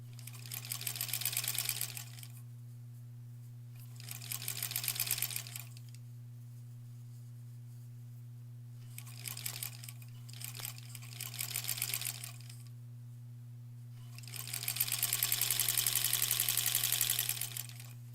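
A home sewing machine stitches quilt blocks for a granny squares quilt in four or five bursts of rapid needle whir, each a few seconds long, separated by pauses over a steady low hum.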